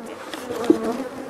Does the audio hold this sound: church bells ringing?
no